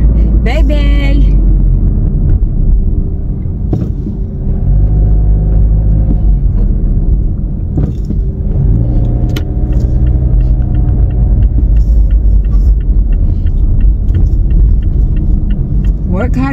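A car drives slowly through a lot looking for a parking spot, its low engine rumble and road noise steady throughout, with a person talking over it at times.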